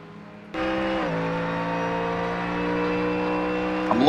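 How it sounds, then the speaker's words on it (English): A Ford Mustang race car in an endurance race roars in close, its engine note a loud, steady droning rumble that holds for several seconds after a sudden onset, with a slight pitch shift as it passes. "Listen to that sound, the rumble of those cars. That's a Ford Mustang for you"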